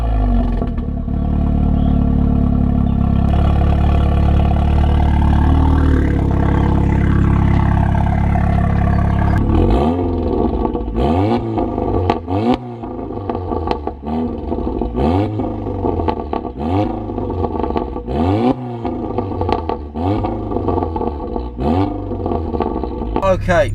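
Volkswagen Golf R engine while driving, a steady loud drone with rising and falling pitch sweeps as it revs through the gears, heard from inside the car.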